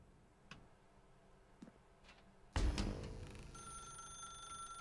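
A telephone rings loudly in The Stanley Parable: Ultra Deluxe, a bright repeating bell that starts suddenly partway through and keeps going, after a few soft ticks and faint taps in a quiet room.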